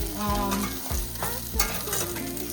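Okra sizzles steadily as it sautés in a pan, with scraping stir strokes sounding close and clear throughout.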